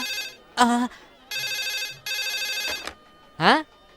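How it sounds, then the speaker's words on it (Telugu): A telephone rings in repeated electronic trills, two long bursts between short spoken exclamations nearby. "ఏమండోయ్, ఫోన్ వెంకటరత్నం గారి కంటే."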